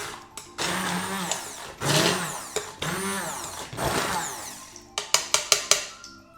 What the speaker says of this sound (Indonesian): Ini tinggal di blender aja dikit-dikit.